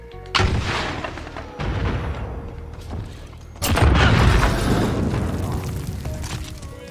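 Missiles in a video game explode in heavy rumbling booms, several bursts overlapping with crackling debris, loud and close.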